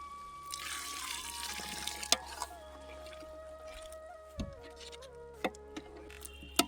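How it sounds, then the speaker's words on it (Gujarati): Water pours into a pan of kaju gathiya curry with a steady splashing rush over the first two seconds, then trickles while a rooster clucks and crows in the village yard and sharp ticks break through. "તો હવે આપણે નાખી દઈશું અંદર થોડું પાણી."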